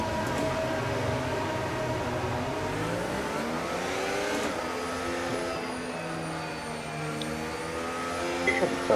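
Race cars on a presentation lap in a racing video game, Can-Am cars at Jeddah, drone steadily with layered engine tones rising and shifting in pitch, a loud continuous roar throughout.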